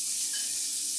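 Garlic shrimp cooks in a hot pan, giving a brief close, steady sizzling hiss throughout, with no voices.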